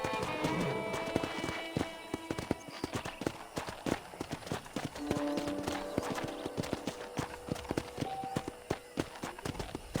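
Steady clip-clop of horse hooves trotting at a brisk, even rhythm on a ranch in the video game Red Dead Redemption, close and clear over a faint background bed of game ambience.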